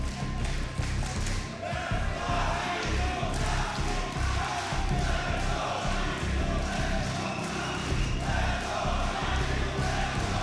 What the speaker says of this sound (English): A split crowd.